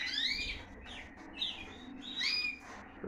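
Pet birds kept by a breeder chirp close by, giving bright rising and falling whistled tweets in a few short bursts over a faint background hum.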